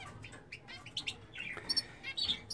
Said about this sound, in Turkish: Mozaik kanaryamız maşallah.